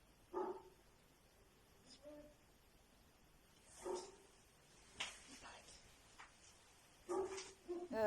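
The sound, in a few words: dog barking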